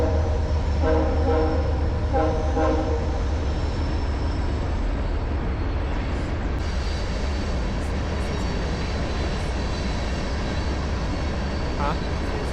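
A train rumbles steadily past, and its horn sounds in a few short blasts near the start. The roar is loud and nearby and continues under faint voices.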